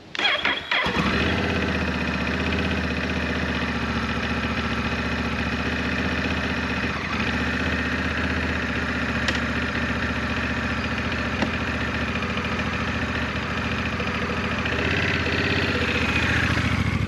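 A Honda Rebel 1100 motorcycle cranks and fires, then settles into a steady, loud, close idle with an even throbbing rumble that continues for the rest of the time.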